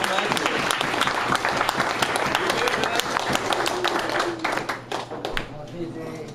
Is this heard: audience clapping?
yes